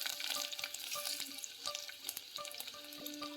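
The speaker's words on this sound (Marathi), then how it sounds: "मोहरी आपली तडतडली आहे." Garlic and mustard seeds sizzle and pop in hot oil, a steady soft frying hiss dotted with quick crackles and light stirring clicks, close and fairly quiet.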